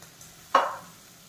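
Tomatoes dropped into a pan of vegetable Maggi give one short burst of sizzle that fades over about half a second, loud and close against a quiet background.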